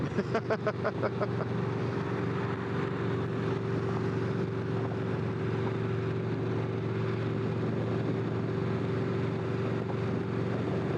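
A Victory V92C motorcycle engine drones loud and steady while riding, a constant low rumble mixed with wind buffeting, with a brief rapid pulsing at the very start.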